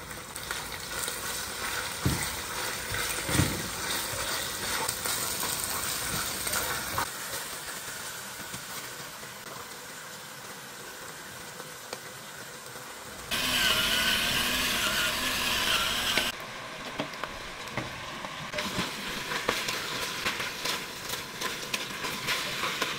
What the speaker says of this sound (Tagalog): hayaan muna nating ma-sear ng konti yung pork